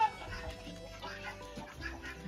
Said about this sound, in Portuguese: As galinhas estão tudo cantando que botou